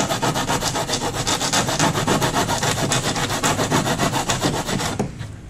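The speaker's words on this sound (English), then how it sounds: "This is just with that sandpaper, and by hand here" Steady, rapid back-and-forth rasping of sandpaper rubbing against wood, close and continuous, stopping abruptly at the end.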